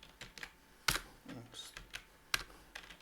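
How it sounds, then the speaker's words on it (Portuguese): Someone types a command on a computer keyboard, a sparse run of quiet separate key clicks over about three seconds, with one sharper key strike near the middle. "Vou digitar a linha de comando aqui para poder instalar o servidor"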